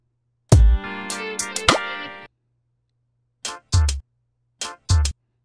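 A loud, punchy sampled hip hop/R&B beat made in FL Studio, played without a compressor, with heavy low thumps and bright tonal hits, a sustained passage followed by silence and then several short, hard-hitting bursts.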